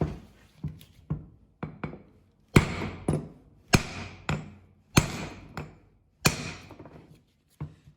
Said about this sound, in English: another trick is you get a hammer and just on the outside right here, give it a couple good whacks